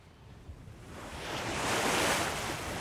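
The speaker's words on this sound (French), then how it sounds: "Le redoutable vent des Cyclades, le fameux Meltem, s'est levé." The Meltem wind blows over the Aegean Sea around the Cyclades, a broad roar of waves and gusting air that builds after half a second and holds loud and close, with no voices.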